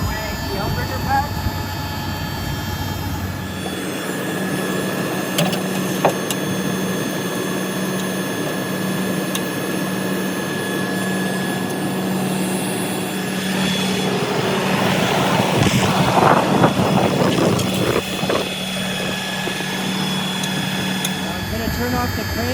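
Hydraulic outrigger pad retracting on a Metro FB-15 tow truck: steady whining pump drone with a constant tonal hum and intermittent clanks and rattles, a voice speaking over it.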